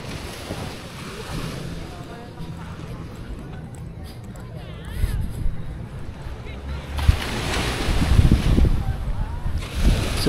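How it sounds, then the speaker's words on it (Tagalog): Sea breeze and surf at a beach on Nasugbu Bay, with gusty wind buffeting the microphone and waves washing in and building louder toward the end. A person talks over the sound throughout. "So ang sarap din talaga ng simoy ng hangin dito sa tabing dagat."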